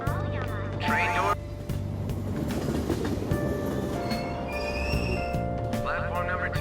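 A Tokyo commuter train in the video game Persona 5 Royal rumbles and clatters steadily at a station. Chimes and tonal beeps sound over it, and a voice gives a station announcement.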